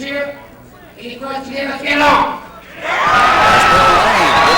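A boxing arena crowd at Lake Tahoe cheers and roars, swelling loudly toward the end beneath a commentator talking over the noise.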